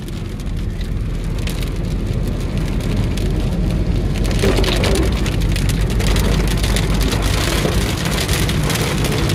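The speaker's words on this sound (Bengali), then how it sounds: "বেশ মুষলধারে বৃষ্টি হচ্ছে।" Heavy downpour drums steadily on a car near Balasore at night, a dense continuous hiss and patter that stays loud and close throughout, with no talk.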